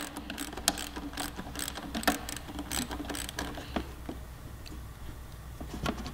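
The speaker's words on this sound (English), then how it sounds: "I've got a 10 mil shallow socket on this 1/4-inch drive ratchet." Quarter-inch drive ratchet with a 10 mm shallow socket removing the lock nut on a Suzuki GSX-R1000 clutch lever bolt: quick bursts of sharp pawl clicks, repeated in short strokes, close and fairly quiet.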